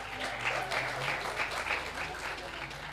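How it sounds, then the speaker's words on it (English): At the Convent High School Class of 2022 graduation ceremony, the gathered crowd applauds, a soft, distant wash of clapping that stays even and faint for a few seconds. "for that we want to applaud you"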